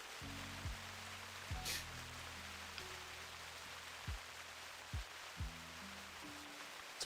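Steady broadband rain falls throughout a hunting video game, theHunter Classic, with a few low tonal thuds and brief blips from game sounds over it; no one speaks.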